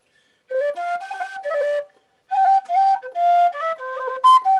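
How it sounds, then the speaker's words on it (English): Someone plays a melodic tune on a tin whistle, bright sustained notes in two clear phrases separated by a short pause, close and alone with no talking. "I'll do something on the whistle again"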